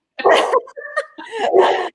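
A dog barks at close range in a few short, loud bursts with brief gaps, the yaps sounding almost like sneezes or snorts; no one speaks over it.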